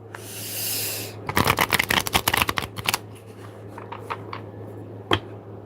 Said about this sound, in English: I'm going to shuffle one more time and be ready for it.